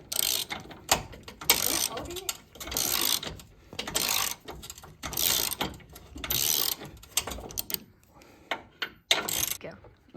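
Ranch Hand bumper guard bolts on a 2011-2016 truck being loosened with a ratchet, giving bursts of rapid clicking pawl strokes separated by short pauses, close up and fairly loud, with no talking.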